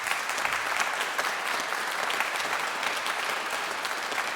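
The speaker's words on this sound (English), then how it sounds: "Alex, big round of applause." A hall full of people applauding at the awards ceremony of a junior piano competition, dense continuous clapping that stays loud and even from start to finish.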